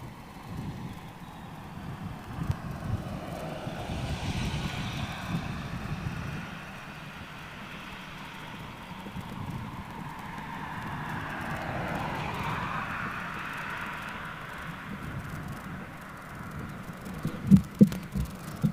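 An aircraft with its gear down on approach near RAF Fairford, a distant low engine roar that swells and shifts in pitch across the clip over outdoor background noise, with a few knocks near the end.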